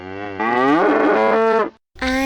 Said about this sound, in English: He saw an old cow.